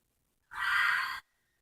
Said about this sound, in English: Let's just take a breath.